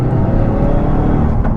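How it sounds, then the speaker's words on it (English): Collins Performance CP2 Mk3 Ford Focus RS engine pulling hard out of a bend, a steady loud close-up drone with dense low harmonics and no talk over it. "let's accelerate out of this bend"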